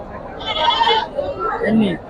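Young goats at a livestock market in Pebbair give a few high, quavering bleats close by, one cry after another over a low background murmur.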